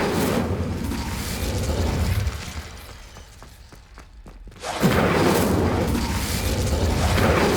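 An Incendio fire spell in the game Hogwarts Legacy: a loud whooshing, crackling burst of flame that dies down into quieter clicks, then a second strong blast of fire that sustains to the end.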